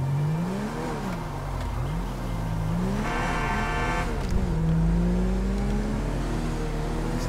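Car in GTA 5 accelerating away, engine revving up and down through several gear changes at moderate distance, loud and continuous with no talk.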